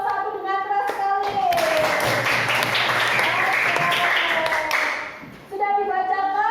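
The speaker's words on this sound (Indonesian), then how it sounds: "Tepuk tangan buat kelompok 4 dan kelompok 1 dengan keras sekali." Loud clapping and applause from a classroom group of students, sustained for several seconds with children's voices and teacher talk before and after.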